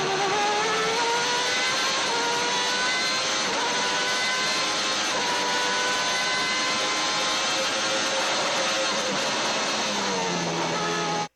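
A Williams FW14B Formula 1 car heard onboard, its engine a loud, continuous high-pitched wail with smooth rising and falling revs, close and unbroken until it cuts off abruptly at the end.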